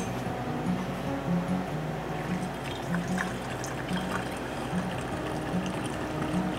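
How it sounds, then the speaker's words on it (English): Homemade elderberry syrup, sweetened with honey, pours steadily into a kombucha bottle, making a continuous close liquid stream with gurgling as it fills, with no talk over it. "I'm gonna pour this into these,"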